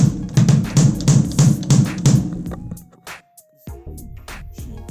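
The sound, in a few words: kick drum in rock tuning being hit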